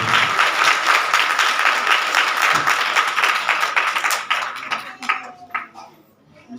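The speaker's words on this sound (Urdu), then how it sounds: "زوردار تالیوں سے" Loud applause from a church congregation for a pastor at an Easter service, dense clapping sustained for about four seconds before thinning into scattered claps and fading out.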